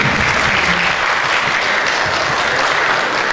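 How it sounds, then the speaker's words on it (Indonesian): Audience applause at a middle school graduation and arts performance ceremony, a steady, dense wash of clapping from a large crowd that holds evenly for about three seconds. "Sekali lagi tepuk tangan bagi"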